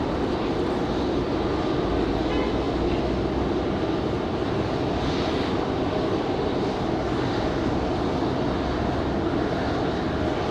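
An Airbus A319 jet departs Raleigh-Durham airport with a steady, loud engine roar that holds broadband and constant throughout, with no voices over it.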